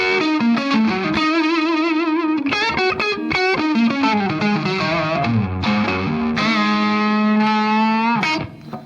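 An electric guitar played through a bluesy overdrive pedal into an amp on the edge of breakup: a gritty, sustained phrase of held notes and bends, loud and up close with no talking.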